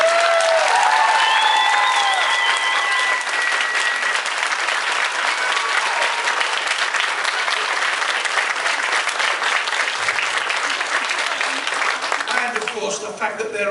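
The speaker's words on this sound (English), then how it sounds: "So those 4 and all your helpers deserve a special round of applause for that bravery." Convention audience applauding the organisers at a closing ceremony, loud dense sustained clapping from a large crowd throughout, fading slightly at the end with some crowd noise.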